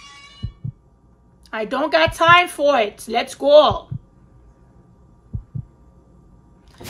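Heartbeat effect in the video game Resident Evil Code Veronica X: soft, low paired thumps repeat at intervals beneath a man's excited speech.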